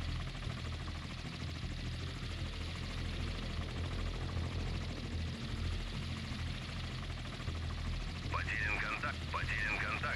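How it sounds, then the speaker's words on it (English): Helicopter in a video game, a steady low rotor and engine drone running continuously throughout, with brief game alert tones near the end. "I'm gonna push this helicopter down."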